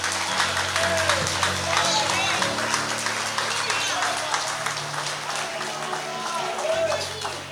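A church congregation claps and cheers together, a steady wash of applause mixed with shouted voices and background music, moderately loud throughout.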